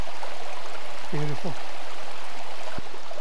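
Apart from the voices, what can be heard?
waterfall in Cwm Idwal, Ogwen Valley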